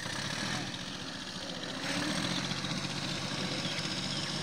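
A tractor engine running at idle with a loaded trolley hitched behind, a steady low rumble that grows slightly louder midway, continuous and fairly close with no talking.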